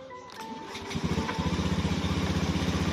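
A Honda Beat scooter engine cranks and catches, then settles into a steady, rhythmic idle putter, close by with no talking.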